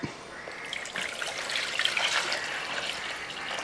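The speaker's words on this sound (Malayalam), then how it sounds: "വാളംപുളി കുറച്ച് വെള്ളം കൂടെ അങ്ങോട്ട് ഒഴിക്കാം" Water trickles and splashes as it is poured over tamarind in a container, close by and fairly soft, lasting a few seconds.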